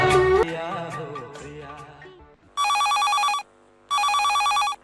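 A telephone rings twice for a radio phone-in song-request program on Akashvani Nanded, each ring a loud, steady electronic burst just under a second long, following music that fades out.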